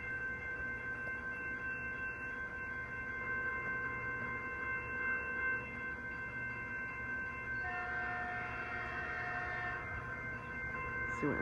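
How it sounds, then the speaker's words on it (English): A Metrolink commuter train led by an MPI MP36 locomotive sits at a Glendale station stop, its diesel idling as a steady low drone with a faint high tone, heard from a distance at low level, with a slight rise in engine noise near the end. "let's sit back and enjoy as this train makes a brief station stop at the station"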